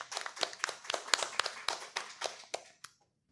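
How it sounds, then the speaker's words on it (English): Scattered hand claps from a small audience at Theater Alliance in Anacostia, about a dozen distinct sharp claps in an uneven rhythm that thin out and stop after three seconds. "a grand round of applause for Lolita Marie"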